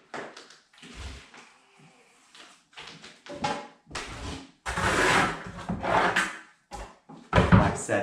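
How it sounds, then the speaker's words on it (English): A steel trowel scrapes and smooths fresh plaster across a wall, giving a series of rough rasping sweeps that grow louder and more frequent toward the end, close up with no talking. "Trowel out any lines that you've left behind."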